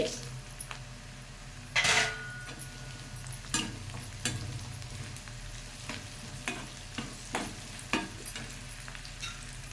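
Cumin seeds and dried red chillies fry in a pan with a soft continuous sizzle, punctuated by sharp scraping and clinking stirs, while a voice talks.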